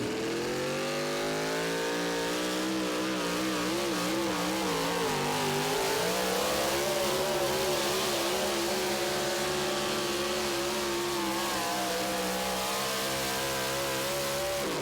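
Modified pulling truck engine revving hard at a 2023 Tomah, Wisconsin truck pull, a loud, sustained, steady roar with the pitch rising and falling slightly across the pull, no voices over it.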